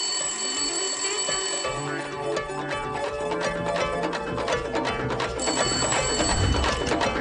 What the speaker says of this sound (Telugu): ఇంకో నెంబర్ నుంచి మనం ట్యాప్ చేస్తున్న నెంబర్ కి కాల్ వస్తుంది సార్.